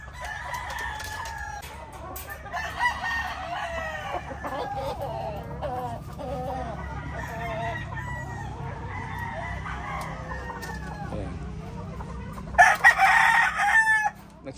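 Sweetness Gray gamefowl chickens and pullets in a breeding pen, with repeated nearby crowing and steady clucking throughout and a louder, harsher crow burst near the end.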